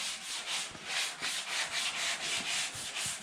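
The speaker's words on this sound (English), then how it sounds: "We're just starting to block sand the box out right" Block sanding the primed steel truck bed of a 1952 Ford F1, a close rhythmic rasping rub in even back-and-forth strokes, about three per second, with no talk.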